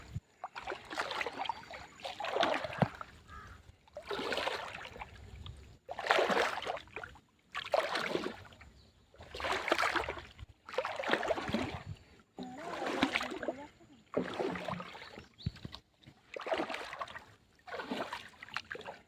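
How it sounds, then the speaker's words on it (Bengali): A fishing boat on a river, heard as rhythmic paddle or pole strokes, with about a dozen regular watery swishes and splashes every second or two, fairly close. "আর এখানে দেখো নৌকা নিয়ে দেখো মাছ ধরছে"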